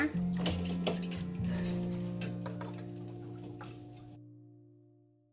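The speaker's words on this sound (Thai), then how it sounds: "เราจะตักเนื้อไก่ไว้แบบนี้ค่ะ" A ladle scrapes and clinks against a metal pot while lifting boiled chicken from broth, a few knocks and a scoop of liquid, then the sound fades to a ringing hum.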